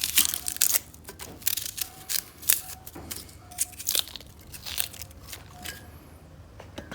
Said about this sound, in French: Éplucher l'oignon, pareil